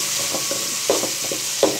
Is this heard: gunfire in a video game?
no